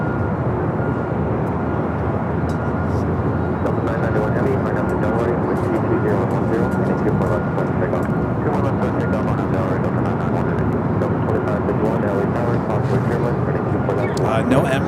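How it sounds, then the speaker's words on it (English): Boeing 767 jet departing LAX bound for JFK, a loud, steady broadband engine roar sustained for the whole stretch, with a voice talking over it at times. "Getting this 767 heading to JFK."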